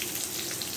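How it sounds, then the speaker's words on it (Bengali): Onion and green chili frying in a tempering of black cumin, fennel and bay leaf for a lentil dal, giving a steady close sizzle and crackle with no talk. "ভেজে নেব পেঁয়াজ লঙ্কাকে"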